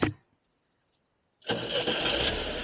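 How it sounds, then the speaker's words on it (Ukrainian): A tractor engine on a 24-volt starter cranks and catches after a quiet pause, then runs on loud and close at a steady, rough idle. "Замкнули 24 вольта, подали на стартер, додали дещо газу"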